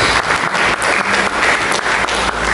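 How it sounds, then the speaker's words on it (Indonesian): Dense, loud applause from a church congregation giving praise to Jesus Christ, many hands clapping continuously without a break. "Mari kita berikan tepuk tangan bagi Yesus Kristus."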